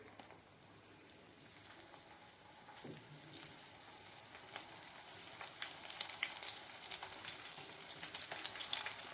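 Undhiyu muthia dumplings drop one by one into hot oil in a kadhai, setting off a steady close sizzle and bubbling that grows louder and busier toward the end, with no voices.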